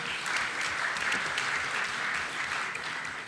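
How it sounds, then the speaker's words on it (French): Continuous crowd clapping, a dense even patter of many hands sustained throughout, with no talking. "donc on applaudit aussi Simon"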